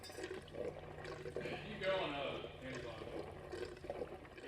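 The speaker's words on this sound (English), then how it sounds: "we'll pour this gas in and then try to start it again" Gasoline poured from a container into the fuel tank of a V8 Dodge Charger makes a soft, steady liquid gurgle lasting a few seconds, with voices talking nearby.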